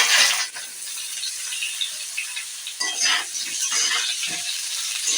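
Potatoes frying in hot oil tempered with panch phoron, a steady close sizzle with light clinks and stirring scrapes of a spoon against the pan, no talking.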